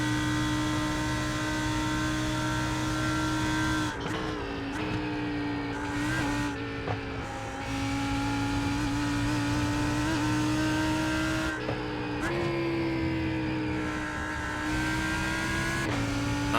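A GT3 race car engine in the iRacing video game screams at high revs, rising and dropping through gear changes with brief tire squeals, loud and continuous from start to finish.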